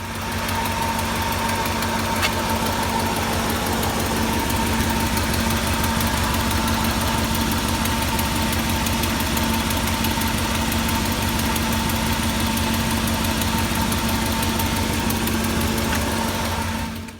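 A neglected 2003 Dodge Durango with the 4.7L V8 idles steadily for the whole stretch, a close, constant low rumble with a faint ticking knock running through it and no one speaking.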